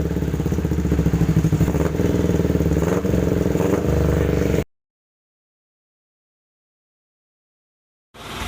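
A rebuilt Kawasaki Ninja 250cc motorcycle engine idles with a steady, rattling putter, then cuts to silence before briefly starting up again.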